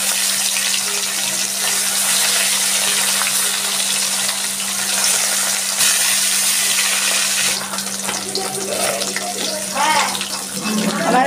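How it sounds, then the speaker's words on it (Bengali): Parshe fish, rubbed with salt and turmeric, dropped into hot oil gives a loud, steady hiss of frying that holds for the whole stretch, a low hum running beneath and some clattering near the end. "তেল গরম হয়ে গেছে, আমি মাছটা ছেড়ে দিচ্ছি।"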